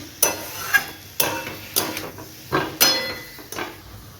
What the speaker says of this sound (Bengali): মশলার সাথে আলুগুলো ভালো করে মিশিয়ে নিয়ে এগুলো একটুখানি কষিয়ে নিতে হবে পাঁচ দশ মিনিট